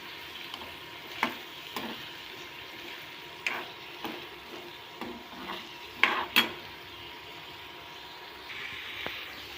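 Onion frying in a pan for spicy onion chutney, heard as a soft background sizzle broken by scattered clicks and scrapes of stirring, fairly close, with no voices.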